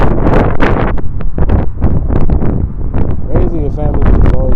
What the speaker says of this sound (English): damn, it's windy